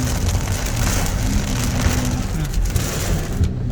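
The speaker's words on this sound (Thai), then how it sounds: "ฝนตกนะครับ เริ่ม ทวีคูณแรงขึ้นเรื่อย ๆ นะครับ" A heavy downpour in Bangkok hammers surfaces close by, a loud, dense, unbroken hiss of rain that holds steady throughout.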